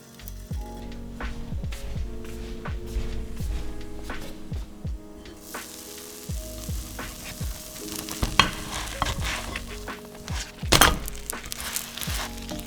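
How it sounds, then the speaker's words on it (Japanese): A vegan, flour-free okonomiyaki steam-frying under a lid on low heat in a pan, with a soft continuous sizzle broken by repeated clattering thunks and scraping of utensils, close and without talk, under light background music. "ひっくり返して蓋をして6分ほど弱火で蒸し焼きにしていきます"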